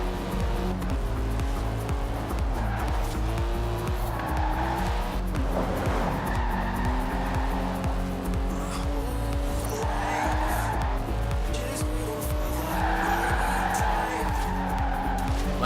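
A race car skidding in the Forza Horizon 4 video game, with loud continuous engine drone and repeated tire squeals rising and falling throughout, music faintly underneath.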